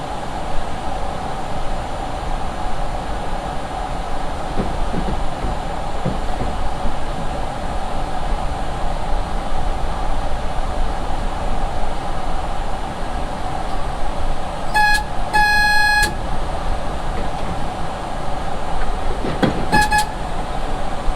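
A New York City subway train on the Rockaway line rumbles steadily across the Beach Channel Bridge with a loud continuous roar, broken by sharp metallic squeals and screeches in the second half.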